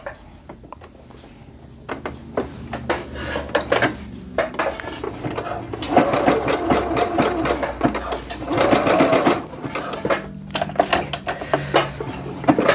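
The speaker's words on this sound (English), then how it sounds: "I'm doing my zigzag stitch, and I'm going to go all the way around" Sewing machine running a zigzag stitch around stretchy knit jogger fabric, a busy mechanical whirring that starts softly then runs in steady louder bursts with brief pauses, close up and alone.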